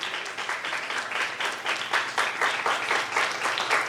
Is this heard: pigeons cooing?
no